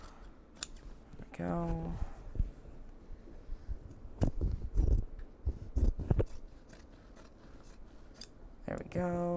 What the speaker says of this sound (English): And I'm going to trim down this interior seam.